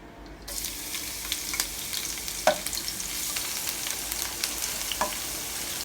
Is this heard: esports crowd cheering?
no